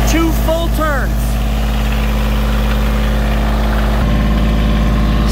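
Steady, loud diesel drone of a Kioti CK2610 compact tractor held at 2200 RPM, a constant close hum with a slight shift near the end, while someone speaks over it.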